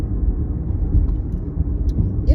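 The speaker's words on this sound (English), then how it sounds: "It's probably already a little loud because I'm driving and hitting these bumps." A car driving over bumpy road, heard from inside as a loud, steady low rumble of road and engine noise with small thumps, no talk over it.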